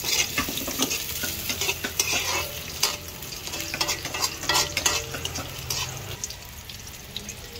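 Garlic and onion frying in a pan, a steady close sizzle broken by stirring scrapes and clinks, with a faint low hum underneath and no speech.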